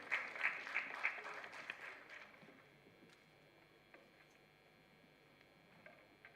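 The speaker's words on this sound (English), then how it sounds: "Can we please get our hands together for him?" Audience applause at a BRICS Youth Council entrepreneurship event, a brief burst of clapping in the first two seconds that quickly thins and fades to quiet room tone with a few scattered claps.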